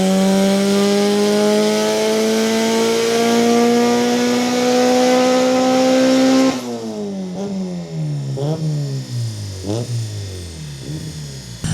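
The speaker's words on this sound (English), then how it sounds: "getting this thing on the dyno, getting it running" Loud turbocharged Honda Civic engine on a dyno at a motorsports shop, holding a high rising rev for several seconds, then cutting abruptly into choppy blipping throttle bursts with falling pitch.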